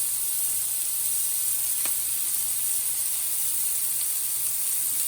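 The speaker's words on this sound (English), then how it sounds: "Listen to that sizzle." A steak burger sizzles steadily in a hot pan, a continuous bright hiss with a few faint pops and no talking.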